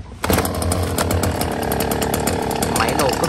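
A STIHL 024 AV chainsaw in good condition starts up, its two-stroke engine catching abruptly and then running loud and steady nearby with a dense, buzzing drone.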